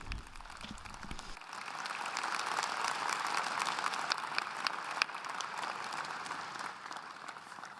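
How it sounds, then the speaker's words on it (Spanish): Sustained audience applause for Pope Francis at the closing of a congress in a large hall, a broad dense wash of clapping that swells after a brief start and holds steady. "Inmediatamente el aplauso para el Papa Francisco."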